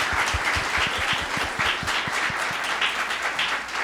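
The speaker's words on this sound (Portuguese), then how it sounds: "Uma salva de palmas para ela, que ela merece." An audience claps after a talk at an administration debate event, with steady, fairly close clapping in which individual claps stand out, continuing throughout.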